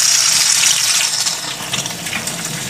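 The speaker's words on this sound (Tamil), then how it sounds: "தண்ணி இதில் இப்படி ஊற்றணும்." Water is poured over a hot pressure cooker to release its pressure, giving a steady broadband hissing, splashing rush that stays loud throughout the short clip with no talking.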